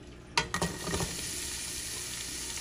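Onion and ginger hitting hot oil in a pan, a sudden loud sizzle with a few clattering stirs, then a steady hissing fry close by.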